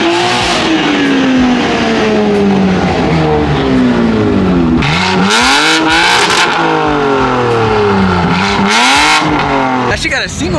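A BMW with a loud modified single-exit exhaust revs hard nearby, rising and falling in repeated sweeps, with people talking over the engine throughout.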